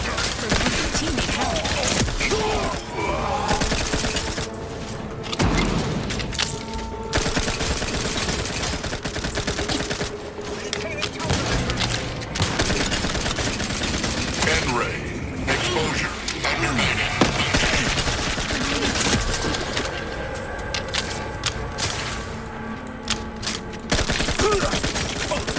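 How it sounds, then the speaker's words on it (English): Dense, loud gunfire in the video game The Outer Worlds 2, with rapid bursts of automatic fire and crashing impacts layered over a continuous combat soundscape for nearly half a minute, no pauses. "Why they are shooting me?"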